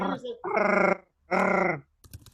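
A human voice imitates an angry Chewbacca growl in two long, loud, throaty roaring bursts separated by a short pause, followed by a faint rustle.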